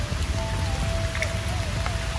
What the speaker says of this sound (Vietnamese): Rồi mưa tới nữa rồi.